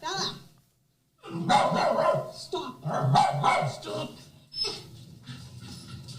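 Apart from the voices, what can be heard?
dog barking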